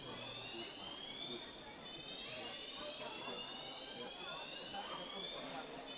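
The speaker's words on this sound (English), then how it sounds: "getting an alarm in the middle of your game" A fire alarm sounds through a sports hall during an under-18 team game, a continuous faint, distant ringing wail that runs throughout while people talk nearby.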